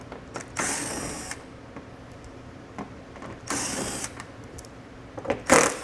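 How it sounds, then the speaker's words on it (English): A ratchet with an 8mm socket backs out screws during a hidden trailer hitch install on a 2021 BMW X5, giving bursts of rapid clicking at close range, with short pauses between runs. "we're gonna have to remove these all with an 8mm socket"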